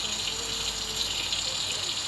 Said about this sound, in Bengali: মাংস ধোয়া শেষে